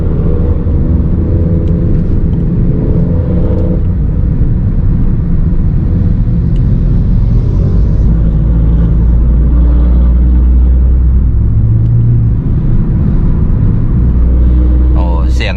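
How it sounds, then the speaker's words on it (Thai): A heavy trailer truck rumbles past on the road, a loud low drone that swells and lingers, with faint road noise throughout. "เสียงเมื่อกี้ก็เป็นเสียงรถ รถพ่วงนะครับผม"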